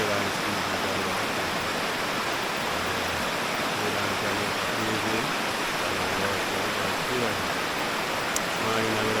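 Jamaican river water rushing steadily as a broad, even wash, with someone talking over it through much of the time.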